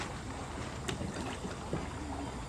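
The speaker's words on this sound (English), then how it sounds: "when I paddle from the front of the boat just follows behind me" Continuous water wash and gurgling around a small boat paddled against a river current, with faint splashes of paddle strokes under steady broadband noise and no talking.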